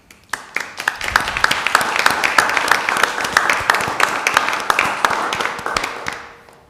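Applause breaks out at a council meeting, a crowd's dense clapping that starts with a few claps, holds steady for several seconds, then thins out and fades.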